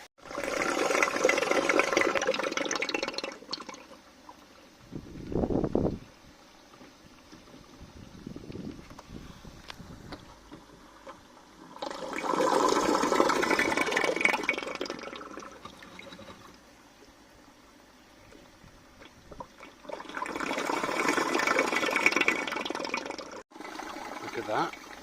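Water running and splashing during a koi pond water change, rushing in three long loud bursts separated by quieter trickling gaps, close by with no talk.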